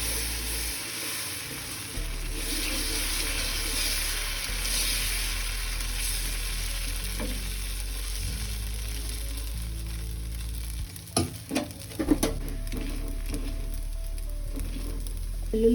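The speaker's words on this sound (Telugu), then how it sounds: "ఇది కూడా ఇప్పుడు ఎగ్ దోశ ఎలా చేయాలో చూద్దామండి" Close, steady sizzle of egg dosa frying on a hot griddle, with scraping and clattering from a utensil near the end; no one speaks.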